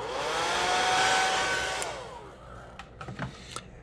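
A heat blower dries freshly airbrushed paint on a yellow perch fin, a steady loud whoosh that runs for about two seconds, then shuts off and winds down, leaving faint clicks and handling noises.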